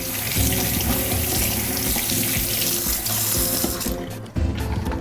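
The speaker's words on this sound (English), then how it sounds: "all I'm going to do is rinse it off, because it's already been washed, but I want to wash the inside." Food is rinsed under a running kitchen tap. A loud, steady rush of water continues almost throughout, with a brief dip near the end.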